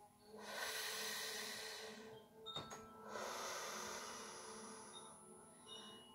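Slow, deep meditative breathing, a long airy inhale and exhale, then another, close and soft with a brief gap between breaths.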